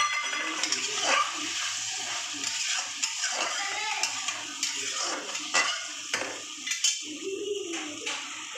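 Water poured into a hot pan of parshe fish curry with green chillies, bringing a hissing sizzle broken by repeated scraping and clinking of a spatula against the pan, close and fairly loud.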